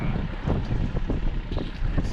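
Wind gusts buffet an anchored sailboat in a steady broadband rush, with low rumbling surges and a few brief knocks, near and continuous with no talk.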